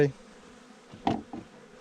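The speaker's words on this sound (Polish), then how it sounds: "pszczółki sobie ładnie wlecą z powrotem do ula" Brief buzzing of honeybees returning to a hive, a couple of short close passes over an otherwise quiet background.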